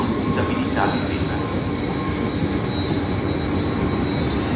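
Trains at the railway station in Udine, Italy: a steady, loud rumble of rolling cars with wheel squeal and brief metallic clatter, continuous throughout with no voices.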